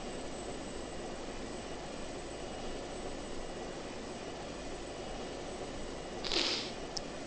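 Airplane engine in the video game Just Cause 2, a constant loud droning roar with a steady whine on top, and a brief sharp burst of noise near the end.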